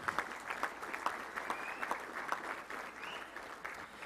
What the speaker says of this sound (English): Let's give a round of applause for all of our great sponsors.